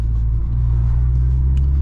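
A VW MK6 Golf R engine hums at a low, steady drone while the car is driven, with a faint rumble and a slight rise in tone, heard from inside the cabin with no talking.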